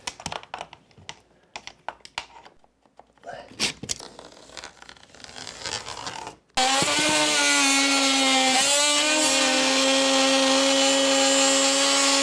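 A power saw cuts a wood floor transition strip: scattered handling knocks and clatter give way to a loud, steady, high motor whine that runs to the end, with a slight dip partway through.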